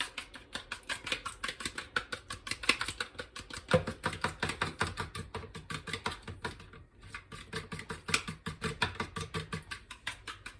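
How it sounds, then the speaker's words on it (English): Rapid, steady clicking and tapping of a whisk beating eggs for brownie batter against a bowl, continuous and close, with no talking. "go ahead and beat these eggs before I put them in the mix."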